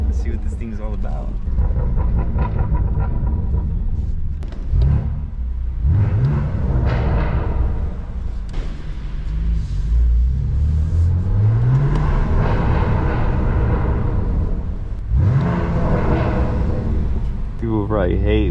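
A BMW M4 with an AWE SwitchPath exhaust revs and accelerates, its loud deep rumbling engine rising and falling in repeated pulls with rising pitch sweeps, heard up close throughout.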